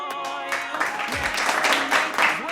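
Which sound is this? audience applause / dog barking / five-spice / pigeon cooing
audience applause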